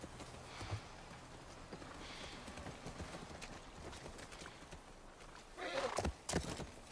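A horse snorts and whinnies amid clip-clopping hooves by a ranch house in The Last of Us Part I, over a steady game-like background ambience, with a louder burst of movement near the end.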